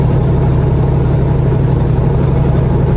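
Locomotive 4907's engine gives a loud, steady low rumbling drone, close and unbroken, with no voices.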